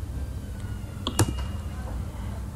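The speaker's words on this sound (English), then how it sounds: "now if we type localhost" A few scattered keystrokes on a computer keyboard, close and light, clicking briefly over a steady background hum.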